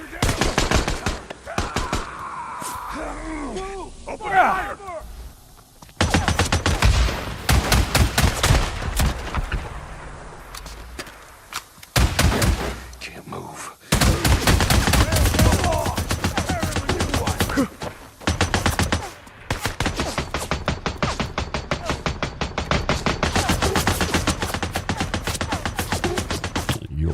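Gunfire rattles in the video game Days Gone Remastered: long, loud bursts of automatic fire and heavy shots come in waves with brief gaps between them, close and harsh, while voices shout briefly early on.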